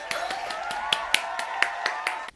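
One person claps their hands about nine times in an uneven rhythm, imitating Swedish airline passengers applauding a landing. The claps are sharp and close, with a sustained vocal tone running over them.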